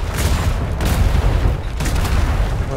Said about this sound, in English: Fire all the torpedoes!